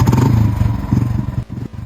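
Royal Enfield 346cc single-cylinder motorcycle engine running close by, a steady loud low thumping idle with a slight mechanical clatter throughout.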